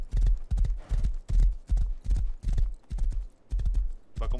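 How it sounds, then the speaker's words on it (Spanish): A horse gallops in the survival video game Rust, nine evenly spaced heavy hoof thuds in a quick steady rhythm, close and fairly loud, with a brief voice at the very end. "En el caballo, en el caballo blanco."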